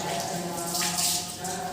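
Water poured over a forearm during wudu ablution, a steady close splashing and trickling that rises and falls for under two seconds.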